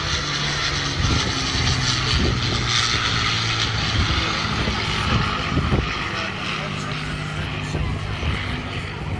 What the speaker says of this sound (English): see the Spitfire repositioning to fly in as well